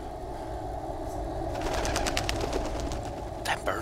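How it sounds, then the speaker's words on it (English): Birds in a video game flutter and call in quick bursts over a steady low ambient hum, with a sharp flapping flurry near the end. "Damn birds."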